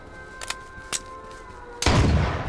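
In the H1Z1 battle royale game, a gun is fired at a tree: two light taps come first, then a sudden loud blast whose rumbling roar carries on to the end.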